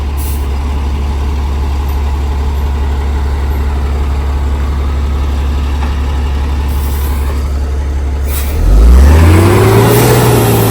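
A large trailer truck rumbles with a steady, low diesel idle, then its engine revs up loudly near the end with a rising whine. No one speaks.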